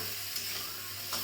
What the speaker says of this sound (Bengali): ফোড়নটা দিয়ে আমি নুন হলুদ একটু সামান্য লঙ্কার গুঁড়ো দিয়ে ওভেনটা জ্বালিয়ে দিলাম, দিয়ে এটাকে হালকা করে নাড়তে থাকবো।